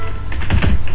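Keystrokes on a computer keyboard during HTML web page coding, several quick close taps clustered in about a second, moderately loud with no talking.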